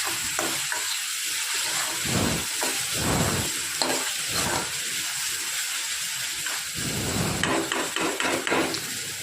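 A spoon stirs milk curry in a hot pan amid a steady sizzle and hiss, with scraping strokes and a few clinks against the pan, up close and without talking.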